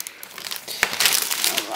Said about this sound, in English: So, we get the laptop, we just have to unwrap it.